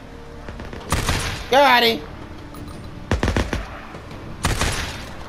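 Three separate bursts of rapid automatic gunfire in the video game Days Gone, each short and loud, spaced a second or two apart, with a voice talking between them.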